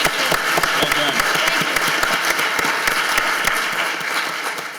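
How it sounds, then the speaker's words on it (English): A steady round of applause with dense, fairly close clapping from a crowd at a military retirement tribute for a departing officer, holding even throughout and easing slightly toward the end. "a big round of applause to congratulate her"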